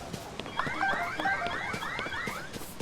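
An alarm goes off in Zelda: Tears of the Kingdom, repeated rising and falling tones cycling steadily over a busy game soundscape, fairly loud and continuous throughout.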